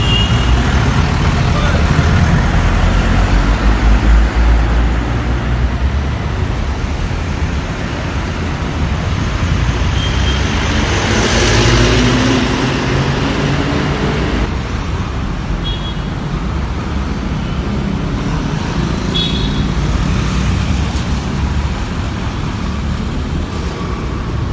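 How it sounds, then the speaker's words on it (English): Congested road traffic on the Margao-Panjim route in Goa, hundreds of vehicles queued at peak hours behind added barricades: a steady, dense rumble of cars, trucks and buses idling and creeping, continuous throughout with no clear single pass-by. "Hundreds of vehicles are lined up, especially during peak hours on the route."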